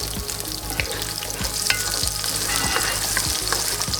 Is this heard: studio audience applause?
no